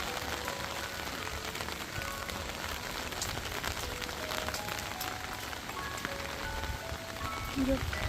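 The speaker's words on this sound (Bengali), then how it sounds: "আর বাইরে হচ্ছে প্রচণ্ড পরিমাণে বৃষ্টি" Heavy rain falling outside, a dense, continuous patter and hiss at moderate level throughout, with a voice speaking over it.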